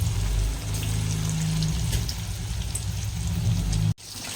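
Pakoras deep-frying one by one in hot oil give a steady, crackling sizzle like light rain, close and continuous, that cuts off sharply near the end before resuming.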